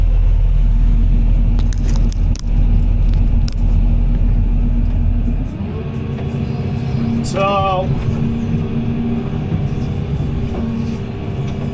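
Excavator fitted with Trimble 2D grade control running on a garage excavation site, its engine rumbling steadily while a short burst of rapid beeping from the grade system rises near the middle, with a brief voice at the start.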